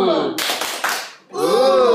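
Students in an English class in China clap their hands in a short burst that fades, then a voice follows right after.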